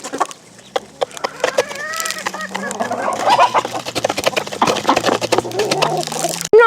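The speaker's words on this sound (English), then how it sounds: "he's still doing the little baby chirps" A young duckling, probably a drake, on a farm gives repeated thin high baby chirps and peeps, close and clear over faint background sounds, ending with a brief louder noise.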